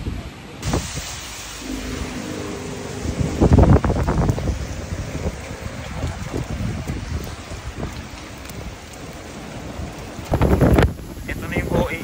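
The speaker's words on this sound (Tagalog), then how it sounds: "Ito na yung OA na hangin." Strong typhoon wind from Super Typhoon Leon in Taiwan roars and buffets the microphone in surges, building into loud gusts and then easing off, with a constant rushing background.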